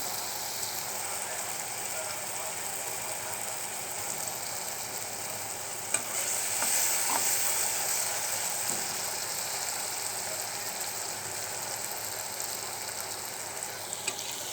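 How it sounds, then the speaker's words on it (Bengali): Spice paste sizzles and fries steadily in a pan ahead of adding small kechki fish, a constant hissing crackle with occasional stirring scrapes, close and fairly loud throughout with no talk. "মশলাটা আর একটু কষুক, তারপর মাছগুলো দিয়ে দেবো, কেচকি মাছগুলো।"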